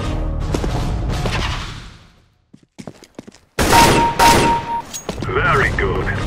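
Gunfire in Counter-Strike: Global Offensive: loud bursts of rapid shots, a brief quiet gap with a few scattered pops, then another heavy volley with crashing impacts.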